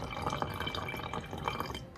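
Water is poured from a container into a spray bottle that holds acrylic paint, making a steady, close trickle with bubbling, gurgling splashes as the bottle fills, with no talking.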